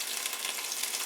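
Potatoes crisp up in a hot pan with a steady, close, dense sizzle that holds at an even loudness through the whole second, with no talking.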